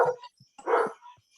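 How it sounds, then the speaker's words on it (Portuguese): A dog nearby barks a few sharp, separate yaps, one clearly louder and longer than the others, with short quiet gaps between them. "porque tem um cachorro latindo aqui, aí tá atrapalhando um pouco."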